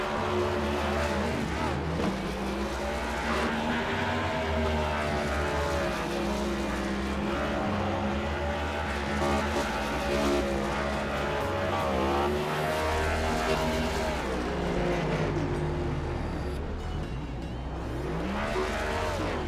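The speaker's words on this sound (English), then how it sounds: "I'll turn the volume up for you just so we can hear these burnouts from Alex Sedgwick" Cars in a Next Gen NASCAR racing video game at New Hampshire rev through burnouts, giving continuous loud, droning engine tones that rise and fall with repeated throttle swells, with no voices over them.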